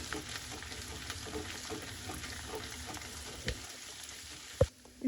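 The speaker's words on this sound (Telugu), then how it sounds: "సాల్ట్ వేసుకొని ఒక 2 minutes పాటు కలపాలి" Chicken frying in a pan for pachadi while salt is stirred in, a close steady sizzle with rhythmic spoon scrapes, ending in a couple of sharp clinks.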